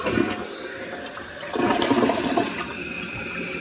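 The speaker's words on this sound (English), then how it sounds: "We're gonna do a flush." A household toilet being test-flushed during a running-toilet repair, the whoosh of water rushing from the tank and swirling through the bowl, loud and close, swelling midway and settling into a steady refill hiss, with no voices.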